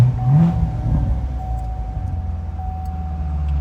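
A 2017 Corvette Grand Sport starts with a brief rev, then settles into a low, throbbing idle heard close by and alone, with no talking.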